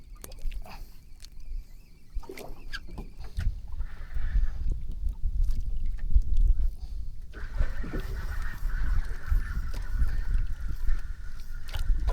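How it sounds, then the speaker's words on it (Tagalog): Ducks honk and quack in scattered bursts, some near and some farther off, over rough, rumbling wind or water noise. "Ay, pato."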